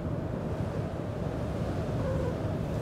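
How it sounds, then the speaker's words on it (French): Steady wind buffets the microphone in a continuous low roar aboard the rescue ship Aquarius at sea, with a faint wash of sea in the background and no voices. "Quand même pas mal de vent aujourd'hui."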